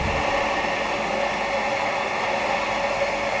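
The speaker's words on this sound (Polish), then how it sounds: "Ten szum, co słyszysz, to prawdopodobnie jakiś ekspres do kawy." A constant, even hum, likely a coffee machine, fills a cafe in Szczawno-Zdrój, steady and moderately loud for the whole stretch with no talk.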